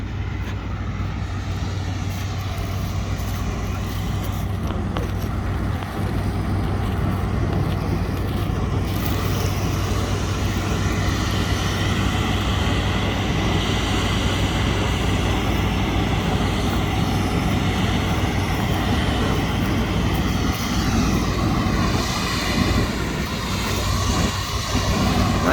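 A Claas Lexion 750 combine harvester and a John Deere machine run on a farm, giving a loud, continuous engine drone and rumble with a low steady hum throughout.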